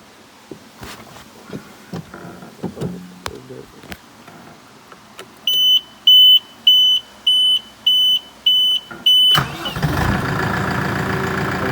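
A Case JX75B garden tractor engine cranks with a run of evenly spaced high electronic beeps, then catches and settles into a loud, steady rumbling idle, with scattered clunks and handling noises before.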